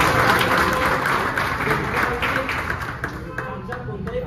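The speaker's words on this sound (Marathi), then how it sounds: "त्यांच्यासाठी जोरदार टाळ्या वाजवा।" Steady applause from an audience at a Mahalakshmi temple gathering, a dense wash of clapping that holds for a few seconds and slowly thins toward the end.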